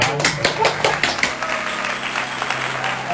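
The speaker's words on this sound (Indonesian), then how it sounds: "boleh dong tepuk tangannya" Brief burst of hand clapping from a small group at a luxury wedding venue in Jakarta, a few sharp claps in the first second and a half fading into room murmur and low voices.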